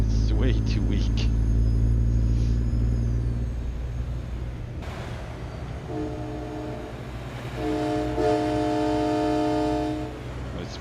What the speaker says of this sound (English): Sad to call it a train horn. It sounds like it, but it's way too weak.